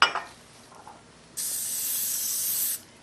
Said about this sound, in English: I'm going to spray our glass bread pans with a spray olive oil